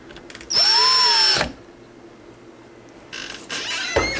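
A power drill drives screws while a smart door lock is installed, with a close, loud whine lasting about a second, a pause, then a second, shorter burst of drilling.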